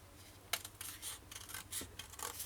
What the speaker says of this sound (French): Dans le rectangle, je vais le couper